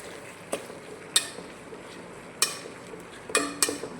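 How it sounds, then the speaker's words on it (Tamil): A spoon stirs tomatoes and garlic frying in a pan, with sharp scraping clicks against the metal at irregular intervals over a steady soft sizzle, close and without talk. "இதையும் நல்லா கிண்டி விடுங்க."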